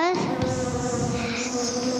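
A steady, loud bee-like buzz in a primary school bee musical, a continuous droning hum up close that holds for about two seconds without talk.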